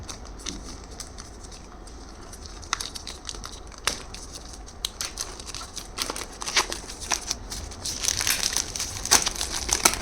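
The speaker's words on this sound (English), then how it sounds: "So let us quickly unwrap this from the film." Protective plastic film is peeled and unwrapped from an XP-Pen Deco 01 V2 drawing tablet, giving close, continuous crinkling and crackling with sharp snaps that grow busier toward the end, and no voices.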